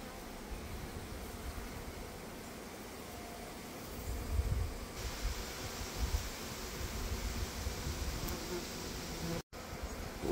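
Honeybees swarm and hum around an open hive outdoors late in the season, a dense steady buzz that swells slightly midway, close and continuous with no talking.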